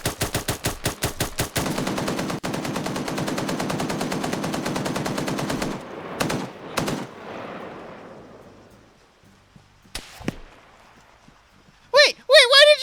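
Rapid automatic gunfire in a PvP video game, a long sustained burst of loud, evenly spaced shots, followed by a few isolated single shots and a short burst at the end, with voices talking between.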